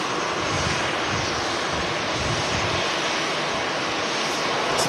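Loud, steady roar of an EasyJet airliner's jet engines at Manchester Airport, a broad, rushing noise that stays even throughout, heard close with no talking.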